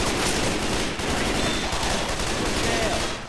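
Gunfire in the zombie shooter Left 4 Dead 2, rapid repeated shots blending into a dense, continuous burst of fire across a few seconds, loud and close.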